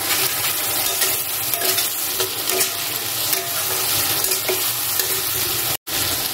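Chicken pieces frying in a pan with salt and spices, a loud steady sizzle with stirring scrapes throughout, close up, broken by a brief silent gap near the end.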